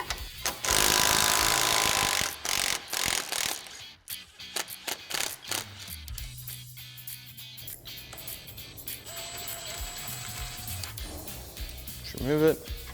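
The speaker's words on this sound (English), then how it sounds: "Now we're going to remove our 15mm upper ball joint pinch bolt." Tools loosening and removing a 15mm upper ball joint pinch bolt on a Polaris RZR Pro R, with a burst of loud power-tool whirring, then clanks, scrapes and handling noises.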